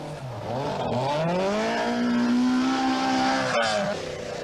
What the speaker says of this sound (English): Buckley caught and passed his cousin Billy Coleman on the corkscrew stage